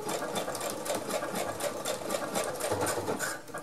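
A sewing machine fitted with a fine needle stitches slowly through thick layers of fabric for a small backpack, a close, even rapid clatter running continuously without pause.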